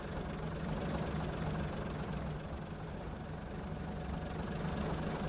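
A Class 50 diesel locomotive idles in a train simulator game, a steady low rumbling drone with a faint mid-range hum that holds level and continuous throughout, with no talking over it.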